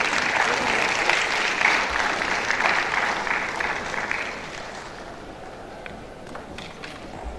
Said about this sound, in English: Please, a warm applause for him.